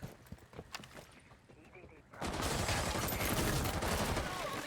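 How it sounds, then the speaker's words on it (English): Gunfire in a tactical shooter game: a burst of shots blasts open library windows, then loud sustained crackling and impacts continue, with game sounds and faint talk underneath. "Shooting open the library windows as the Ioniclone vaults in."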